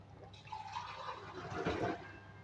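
Water poured into a pot of cooking beef, a steady splashing pour building slightly and ending after about two seconds.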